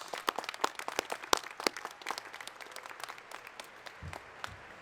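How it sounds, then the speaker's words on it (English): Applause at a National University commencement, given for the Board of Trustees, comes as scattered, quiet, irregular claps that thin out toward the end. "Let's give them a big round of applause."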